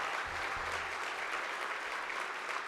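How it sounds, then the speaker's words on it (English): Sustained audience applause for award winners at a credit union honor awards gala, dense and even from start to finish with no talk over it. "How about another round of applause for all of our award winners here tonight?"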